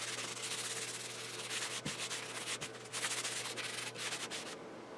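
Soft, steady rubbing of linseed oil into a freshly refinished fretboard on a pawn shop guitar, a quiet continuous swishing with a few light bumps, close up and with no talking.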